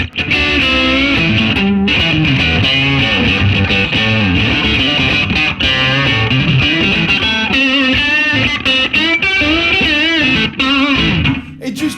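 Electric guitar on its neck pickup played through an ENGL Classic Tube 50-watt valve amp with mids boosted, treble up and bright switch on: a continuous, dense stretch of fluent lead lines and chords, loud and close throughout.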